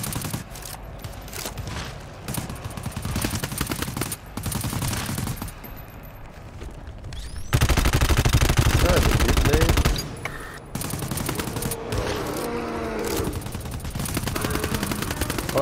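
Gunfire in the co-op shooter GTFO comes in rapid bursts of varying loudness, with the heaviest sustained volley midway, while people talk between shots.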